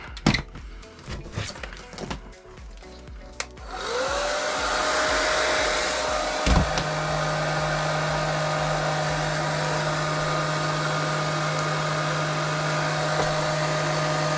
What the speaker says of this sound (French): Et je branche le sèche-cheveux.